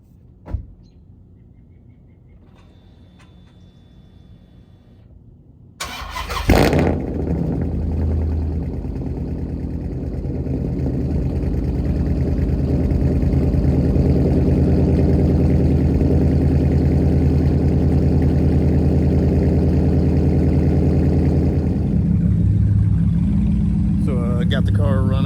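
A Dodge Charger SRT engine cranks and catches after a quiet start, then settles into a loud, steady idle that runs on for about twenty seconds, close by.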